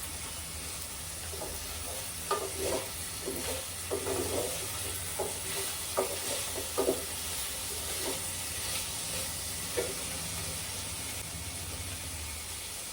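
Paneer frying in a pan, stirred with a spatula: a faint, steady sizzle with soft scraping strokes every second or so, close and fairly quiet.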